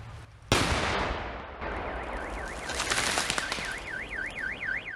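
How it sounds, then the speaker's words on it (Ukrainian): A sharp blast opens into sustained loud noise with crackling bursts of gunfire and explosions during a military drill, while a warbling siren-like tone rises and falls in the background. "Звуки вибухів, які чули містяни, були відточенням навиків і зупинення ворогів."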